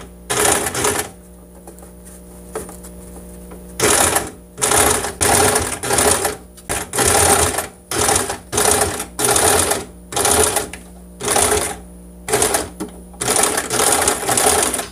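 Sewing machine sewing an understitch in repeated short bursts, about a dozen loud close whirring runs of half a second to a second, separated by brief quiet pauses.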